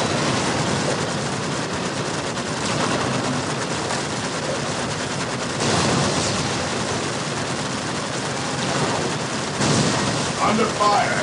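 Gunfire in the strategy game Dawn of War: dense, continuous bursts of rattling shots and fusillades, loud and close, swelling in clusters over a steady battle roar, with no clear talk.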